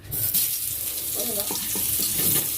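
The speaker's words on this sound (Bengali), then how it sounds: "এবার এখানে এই যে বেগুন কেটেছি, বেগুনগুলো ভেজে নেবো।" Slices of eggplant fry in hot oil with a bright, crackling sizzle and scattered spattering, while a faint voice may briefly come through underneath.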